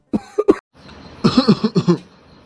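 An elderly man coughs a few times, a short pair of coughs followed after a pause by a longer, rasping run of coughing, close and fairly loud.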